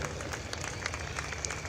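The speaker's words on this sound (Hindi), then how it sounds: "तालियों के साथ स्वागत करें।" Spectators at India's 75th Republic Day parade on Kartavya Path clap faintly from a distance, a soft, scattered patter over a low steady rumble of the outdoor crowd and parade.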